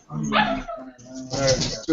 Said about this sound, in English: Whose dog is that? Whose dog is that?